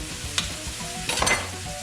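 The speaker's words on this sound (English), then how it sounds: "still cooking and caramelize the sausages and the onion" Sausages and onion frying and caramelizing in a pan, a continuous close sizzle with a couple of brief stirring scrapes, no voices.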